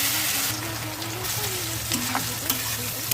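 Crushed garlic, dried red chillies and black cumin sizzle loudly in hot mustard oil in a wok, a steady close frying hiss with occasional stirring scrapes and clinks.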